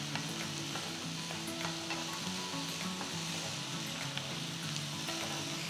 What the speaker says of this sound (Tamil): ஸோ தக்காளி போட்ட பிறகு ஒரு 5 மினிட்ஸ் தக்காளியை நல்லா வதக்கணும்